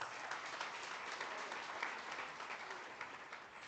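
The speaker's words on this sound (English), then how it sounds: "A round of applause." A crowd applauds continuously at a banknote and coin launch ceremony in Namibia, a dense, even patter of many hands clapping throughout, fairly faint and distant.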